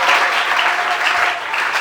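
A church congregation applauds steadily at a morning worship service in Mbuji-Mayi, a dense, continuous wash of clapping from many hands with no pauses.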